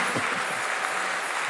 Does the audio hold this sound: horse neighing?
no